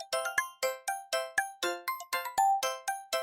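An ancient Chinese qing, an L-shaped hanging stone chime, is struck about a dozen times in a steady rhythm, each strike a clear, bright ringing tone that decays quickly, close and alone.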